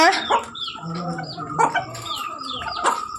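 Hens cluck close by in short, repeated bursts spaced through the moment, mixed with a few higher chirps and no voices.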